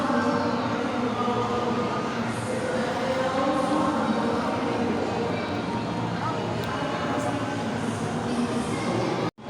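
A mall ride train at an SM mall rumbles and rattles steadily up close, a dense continuous clatter with crowd noise and voices mixed under it, cutting off abruptly at the end.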